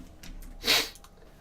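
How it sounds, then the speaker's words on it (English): A single loud, close sneeze bursts out suddenly, sharp and breathy, preceded and followed by quiet room tone. "I sneezed. It was probably pretty loud."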